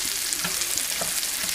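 Sliced mushrooms getting stirred in a hot frying pan, a dense steady sizzle broken by quick scraping strokes and soft knocks, loud and close.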